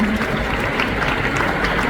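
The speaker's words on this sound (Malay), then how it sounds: "Tepukan untuk MWay." A large audience applauds at an Amway recognition mega rally in Kuala Lumpur and Selangor, with dense, continuous clapping that holds steady for the whole stretch.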